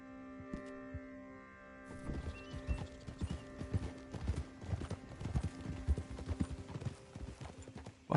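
Horse hooves clip-clop in Red Dead Redemption 2, a steady run of quick, close hoof knocks over a low background hum, growing busier as the horse picks up pace.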